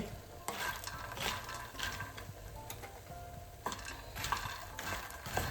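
Food fries quietly in a pan, a soft continuous sizzle under light, irregular stirring ticks and scrapes, heard close but at low volume with no one talking.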